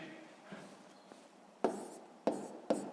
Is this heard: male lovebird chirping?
no